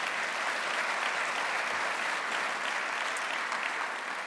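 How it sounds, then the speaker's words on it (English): Steady, even applause from a sizeable audience at a county state-of-the-county address, a continuous dense wash of clapping heard from a distance with no speech over it. "you can give that a round of applause"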